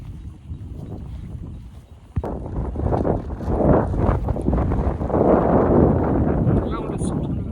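Wind rushes loudly across the microphone during a horse ride outdoors, a broad rumbling gust that swells and holds, with a brief knock partway through.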